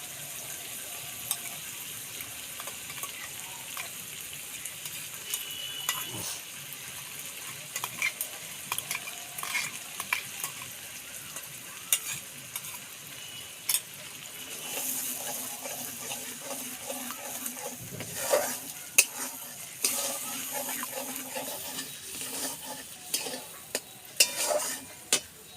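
Katla fish masala with whisked curd sautéing and stirred in a pan, a steady soft sizzle broken by scraping spoon strokes and clinks, growing busier toward the end.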